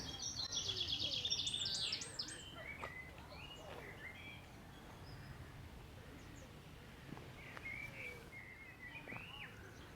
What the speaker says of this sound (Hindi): ये चहचहाती चिड़ियों की आवाज़ें सुने।